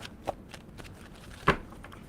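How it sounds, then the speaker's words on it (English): A deck of tarot cards is shuffled by hand, giving a few soft riffling rustles and one sharper snap of cards, sparse and close, with no talking. "Give me 2 shuffles for Gemini."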